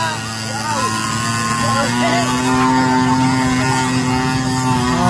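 Small 50cc kids' motorbikes racing in a 50cc category event, engines buzzing loud and steady with whining harmonic tones rising and falling throughout, mixed with crowd noise and an announcer talking over them.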